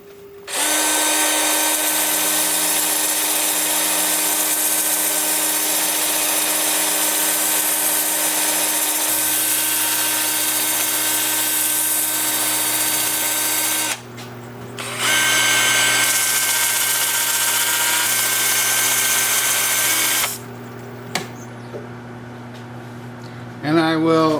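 A spalted sycamore bowl is power-sanded at 150 grit on the lathe, a loud steady whirring drone that pauses briefly twice and changes pitch, with no talk over it.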